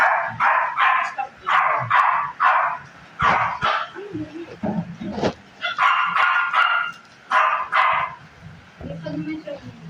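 A pet dog at home barks repeatedly in quick, loud bursts close by, with short gaps between the volleys and a few softer yips mixed in, as people talk nearby.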